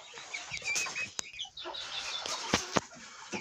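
Pekin bantam chickens cluck and cackle close by in a farmyard, a young hen nearby, with a few sharp knocks and wing flaps breaking through the steady background chatter.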